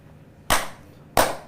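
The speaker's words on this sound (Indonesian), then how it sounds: "dan kita tepuk lagi" Two sharp, loud hand claps about two-thirds of a second apart, each ringing briefly, as someone triggers an Arduino sound-sensor lamp.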